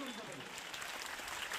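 Audience applause at a gathering, a soft, distant patter of many hands clapping steadily through the whole short stretch, faint and diffuse.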